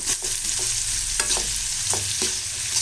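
Finely chopped onions sauté in a pan for onion tomato thokku, a bright steady sizzle broken by several sharp spatula scrapes at irregular intervals, close and with no voices.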